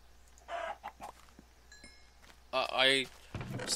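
Chicken clucking in Minecraft, a few short bursts with a louder squawking flurry near the end, heard fairly close amid quiet game ambience.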